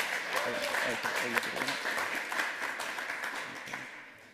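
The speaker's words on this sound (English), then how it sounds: "So give him a round of applause for doing that early this morning." A live audience at a day of hacker-conference lightning talks gives a round of applause, a dense patter of clapping that holds steady for several seconds and thins toward the end, with voices talking over it.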